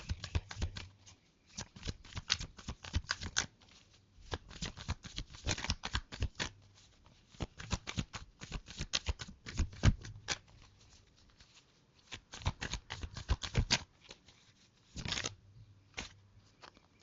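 Tarot cards are shuffled and drawn by hand for a Côte d'Ivoire vs Ecuador football prediction: repeated close riffling and slapping bursts separated by short pauses, with no speech.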